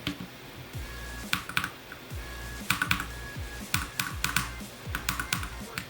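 Sharp, rapid mouse clicks in an uneven rhythm from a player working through a Geometry Dash level, close and fairly loud over a faint game soundtrack.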